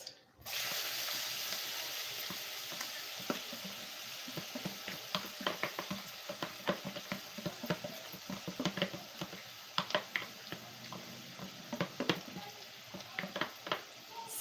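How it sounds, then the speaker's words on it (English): Food sizzles steadily in a hot pan, with bursts of popping and crackling that grow more frequent; no one speaks. "Sizzling, yeah, sizzling."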